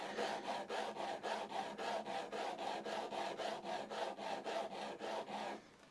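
A cross grain nicker blade is rubbed back and forth on a diamond sharpening stone, giving steady rhythmic rasping strokes, roughly a dozen even passes close up with no talking, ending abruptly.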